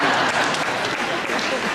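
Audience applause at a live Stranger Things fan Q&A event, loud, dense clapping filling the whole short moment with a crowd murmur beneath.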